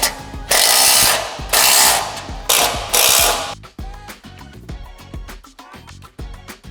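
A ratchet wrench tightens exhaust band clamps on the muffler mounting plate of a 991.2 Porsche 911, first in several long rapid clicking bursts, then in shorter, slower strokes, close and loud.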